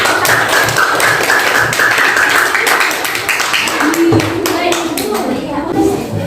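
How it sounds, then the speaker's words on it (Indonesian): A class of schoolchildren claps for group 2 after its science experiment presentation in an Indonesian classroom. The clapping is loud, dense and steady for several seconds, with a few young voices mixed in. "Tepuk tangan untuk kelompok 2."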